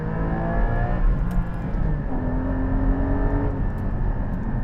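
A Porsche 718 Cayman GT4 engine pulls steadily under load while driving, a loud continuous close-up drone with rising harmonic tones as revs climb, plus road and tire rumble underneath and no speech.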